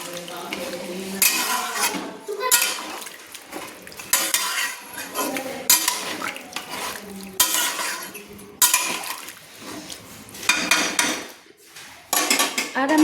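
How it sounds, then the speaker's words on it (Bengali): A spoon scrapes and clanks against a pan while spicy chicken curry is stirred after water is added, repeated bursts of metallic stirring over a soft simmer. "জলটা দিয়ে একটু ভালো করে আমি নেড়ে নিচ্ছি"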